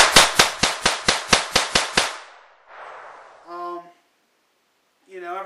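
A rimfire rifle firing a low-recoil round lets off about nine sharp shots in quick, even succession, then falls quiet, and voices follow briefly.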